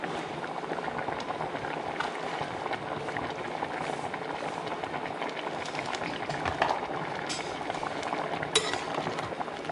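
Barnyard millet rice (bhagar) cooking with ground peanuts and salt boils steadily in a pot, giving a continuous close bubbling and simmering with faint occasional clinks and no talk.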